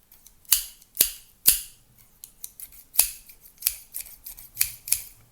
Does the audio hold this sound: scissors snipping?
yes